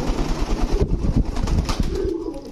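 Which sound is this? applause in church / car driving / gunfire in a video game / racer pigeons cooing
racer pigeons cooing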